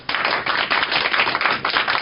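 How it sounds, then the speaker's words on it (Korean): An audience gives a lecturer a warm welcome, a short burst of close, dense clapping that rises quickly and stays full for about two seconds. "뜨거운 박수로 부탁드립니다"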